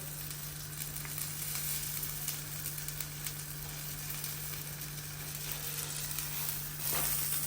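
Quiet, steady sizzle of a katmer gözleme with kaşar cheese frying in a pan, an even crackling hiss throughout with a constant low hum beneath.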